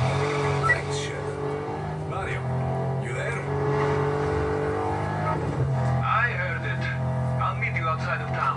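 A car drives in the video game Just Cause 3, its steady engine drone running throughout with a few brief tire and skid noises, while people talk over the gameplay.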